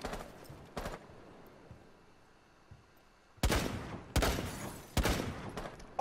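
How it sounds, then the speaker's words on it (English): Gunshots in Rainbow Six Siege fired through a barricade: a few sharp broadband bursts, one early pair and then three loud cracks spaced under a second apart, over quiet game ambience. "I just fired a random bullet for a barricade and killed someone."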